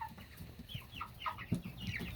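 Roosters and hens in a backyard flock give soft, scattered clucks and short calls, fairly quiet and close, with a few brief louder bursts.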